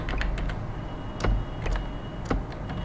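Code being typed on a computer keyboard, quick irregular key clicks close by with a few louder taps, moderately quiet with no talk.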